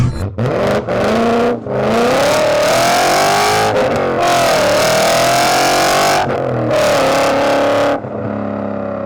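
A BMW E39 M5 engine revs loudly outside, heard from close by. Several strong throttle blips rise and fall, with short pauses between them.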